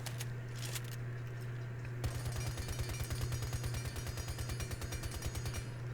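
Rapid automatic fire from Frost's gun in Rainbow Six Siege, a steady train of sharp shots running from about two seconds to the end, preceded by a few isolated shots over a constant low game hum.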